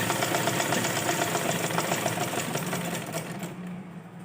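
A sewing machine runs a line of stitching on net fabric, a steady close mechanical whir with a fast rhythmic pulse that carries on throughout and eases slightly toward the end.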